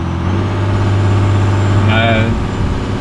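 A Cummins-powered pickup truck engine rumbles steadily with a low drone, revving slightly as it gets moving; a brief higher whine rises near the end.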